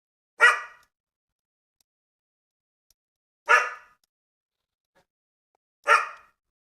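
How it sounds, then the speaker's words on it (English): A pet dog indoors gives three single sharp barks spaced a few seconds apart, each close and loud, with silence between them. "You're a good boy, but you're barking at things."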